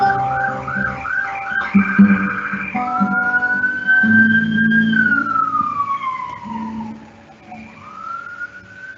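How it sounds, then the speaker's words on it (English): An emergency siren wails and sweeps up and down as a vehicle passes outside, with traffic rumble underneath and the tone fading at the end. "So sorry about the siren going by in the background,"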